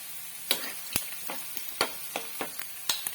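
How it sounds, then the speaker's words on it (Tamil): Crab masala spices with cumin, chopped onion and curry leaves sizzling in hot oil, with soft crackles and sharp pops at irregular intervals, close and fairly quiet, with no voices. "மசாலா நல்லா எண்ணெயில வதங்கட்டும்"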